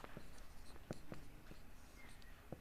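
Chalk or marker scratching on a board during an engineering lecture, faint irregular strokes and taps spaced out over a quiet room.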